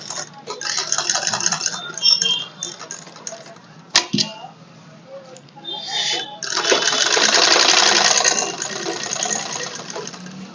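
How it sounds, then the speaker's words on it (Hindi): A sewing machine runs in stop-start bursts while stitching along the edge of a suit collar, its fast mechanical chatter rising and pausing, close and fairly loud, with a sharp click partway through. "इस पे यहाँ एक सिलाई लगाओ किनारे की।"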